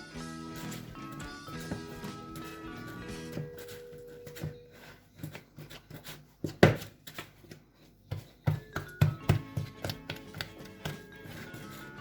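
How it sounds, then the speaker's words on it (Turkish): Soft dough for a Turkish minced-meat pide being kneaded by hand, a steady stream of soft slaps, presses and taps that grows louder and more rhythmic toward the end, with no talking. "Ve elimiz hamurdan ayrılana kadar yoğuracağız"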